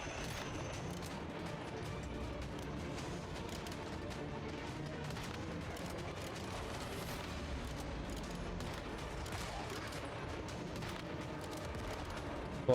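Gunfire from a weapon in the video game Once Human, heard as quiet, dense bursts of shots and booms running steadily under the game mix.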